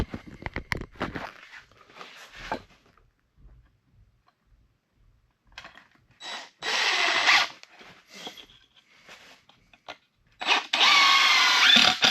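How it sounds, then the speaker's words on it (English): A power drill whirs in two sustained bursts, close and loud, while framing a basement, with clicks and handling noises between runs. "get your drill."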